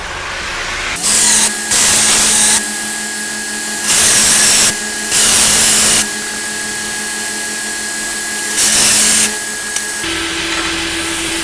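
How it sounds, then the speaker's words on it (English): A biscuit wheel grinds an axe head clamped in a vise, a loud abrasive whine in several bursts of about one to two seconds each, separated by a steadier motor hum. "So once I get these gaps taken care of, I could take it over to the vise and use my biscuit wheel"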